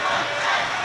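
An ice hockey crowd at a Peterborough Phantoms versus Sheffield Steeldogs game roars and chants in a loud, steady, dense wash of many voices, heard in a brief burst.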